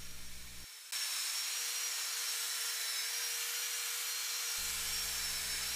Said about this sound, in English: so we're gonna hit that again with the drill.